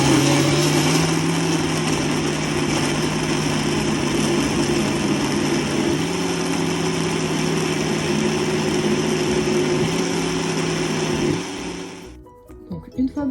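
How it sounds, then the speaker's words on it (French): An electric food chopper buzzes continuously at high speed while chopping celery and vegetables for harira, a loud steady motor whine that runs unbroken before cutting off near the end. "Et c'est parti, on va pouvoir hacher maintenant."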